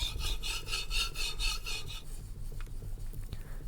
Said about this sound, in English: We are now almost finished with sharpening the yanagiba.